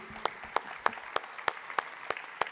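An audience in a hall at a Lions Club Nantes event applauds the convention team with fairly faint, evenly spaced claps, roughly three per second, that sound like steady rhythmic clapping from a distance.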